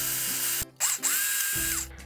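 A kitchen machine blends a two-ingredient cream cheese mixture seasoned with a pinch of salt, its motor whirring loudly and close, briefly cutting out and restarting, with its pitch rising and falling as the speed changes.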